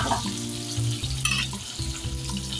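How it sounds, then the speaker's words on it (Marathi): Onion and tomato sizzle in a pan for street-style masala dosa, a continuous frying hiss broken by several scraping stirs of a spatula against the pan. "आता आपण त्यात घालूया कांदा आणि टोमॅटो आता कांदा आणि टोमॅटो ना जरा आपल्याला यात शिजवून घ्यायचं आहे"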